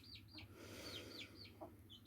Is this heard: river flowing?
no